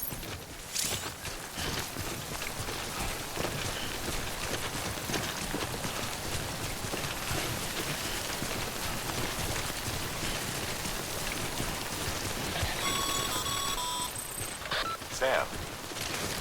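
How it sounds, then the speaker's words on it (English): Steady rain falls in the video game Death Stranding, a constant dense patter that runs throughout, with brief faint tonal electronic blips near the end. "prolonged exposure to timefall damages cargo containers. Don't stay out in the rain any longer than you have to."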